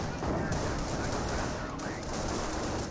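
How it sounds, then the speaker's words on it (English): Constant gunfire and battle noise in Company of Heroes, with rapid overlapping shots and rumbling impacts at a steady, loud level throughout. "We're seeing a bit too much fire at the moment."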